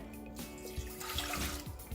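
A cup of water is poured into a pot on a stove while making eclairs, giving a short, soft splash and trickle close by with no talk.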